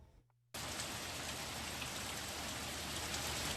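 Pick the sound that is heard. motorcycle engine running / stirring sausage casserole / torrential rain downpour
torrential rain downpour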